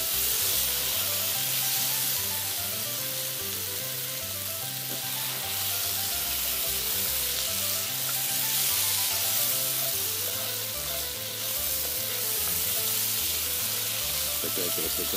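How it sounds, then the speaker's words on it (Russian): Garlic and button mushrooms frying in a pan on a Shmel primus stove outdoors in the forest, a dense steady sizzle and hiss over a low pulsing stove roar, close and continuous. "Вот, обжарили мы чесночки."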